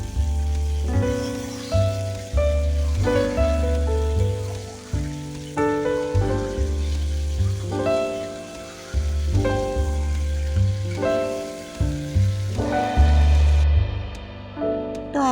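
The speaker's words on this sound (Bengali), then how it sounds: "তো এখানে আমি শিং মাছগুলো দিয়ে দিলাম, আগে কষিয়ে নিব।" Fresh stinging catfish fry in a pan with a soft, continuous sizzle and spatter that rises and falls under a louder rhythmic background.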